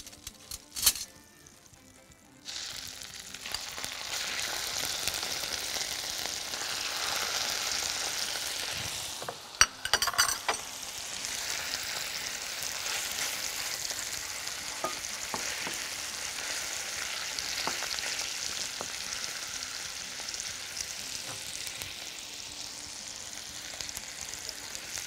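Chicken pieces fry in melted butter in a pan for shish tawook, a steady hissing sizzle that starts suddenly after a quiet moment, with stirring clatter and brief bumps, close and continuous.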